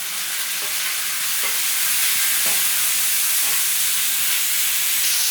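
Tomatoes tossed into a pan of browned onions, giving a steady bright sizzle and hiss throughout, with a few faint stirring scrapes and no talking.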